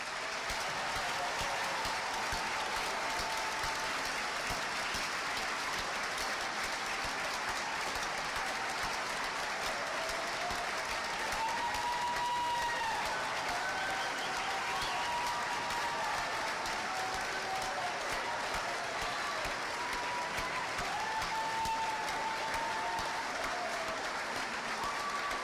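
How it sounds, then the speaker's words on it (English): Sustained applause from an audience at a nursing school pinning ceremony for graduates, a steady dense wash of clapping lasting throughout, with faint voices mixed in under it. "Let's all give our graduates one more round of applause."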